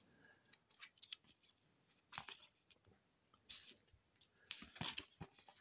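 Short bursts of plastic crinkling and sliding as a trading card is slipped into a protective sleeve, several quick rustles spaced apart, close and quiet with no talking.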